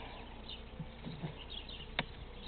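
Honeybees from an opened overwintered hive buzz in a steady, close drone throughout, with a few brief louder passes near the microphone.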